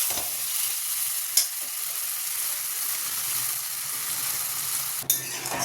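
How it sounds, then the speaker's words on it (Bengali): Ground spice paste and tomato fry in hot oil for an Indian egg curry, giving a steady close sizzle with a couple of brief sharp clatters as the mixture is stirred. "চলো এবার বাটা মশলাটা দিয়ে দিই এই মশলাটা বেশি ভাজা যাবে না তার কারণ পুড়ে যাবে"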